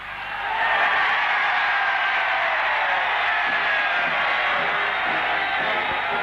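A large enthusiastic crowd cheering at a 1976 bicentennial gathering in Washington, a loud sustained roar of voices and whoops that swells in within the first second and holds steady.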